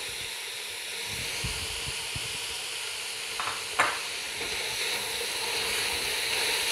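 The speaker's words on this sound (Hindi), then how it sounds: "जैसे ही हमारी सब्जियां भुन रही हैं, उसके साथ ही मैं चिकन ऐड कर दूंगी, ये श्रेडेड चिकन है 1/2 किलो" Vegetables and shredded chicken stir-frying in oil for Chinese-style rice, a soft steady sizzle and hiss with scattered scraping stirs and a sharp utensil clatter near the middle.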